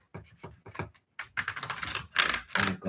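A dirty computer keyboard clatters as it is cleaned, with quick irregular bursts of key clicks that start sparse and grow into dense, loud rattling, close by.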